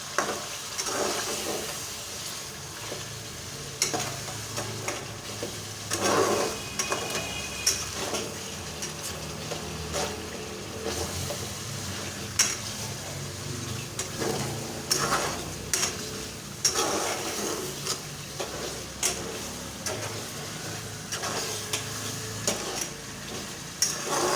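Spices such as coriander powder and black cardamom frying in a pan for black urad dal, a continuous soft sizzle with repeated scraping stirs and light clinks of a spoon against the pot.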